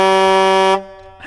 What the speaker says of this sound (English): I know that your customary greeting is the long honk.